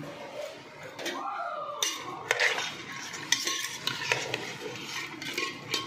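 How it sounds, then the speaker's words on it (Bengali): A metal spatula stirs fig curry in a pot of water with turmeric and salt, giving repeated scraping and clinking strokes against the pot, close and fairly loud, with a faint voice briefly in the background. "একটু খুন্তি দিয়ে কিন্তু নেড়ে নিলাম।"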